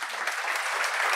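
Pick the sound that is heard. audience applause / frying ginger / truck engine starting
audience applause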